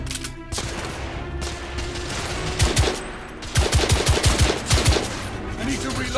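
Bursts of gunfire in The Order: 1886, a combat exchange with police in a Victorian London setting: scattered shots, then a loud rapid volley of sharp reports close by over background game ambience.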